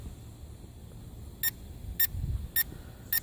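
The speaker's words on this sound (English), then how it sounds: "You hear the 4 beeps," Four short, high electronic beeps from a Syma X8G drone controller, signalling headless mode, sound at an even pace over a quiet background hum.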